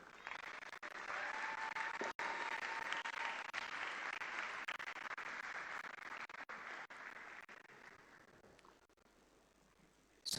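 Sustained applause from a large crowd, steady and dense for most of the stretch, tapering slightly toward the end.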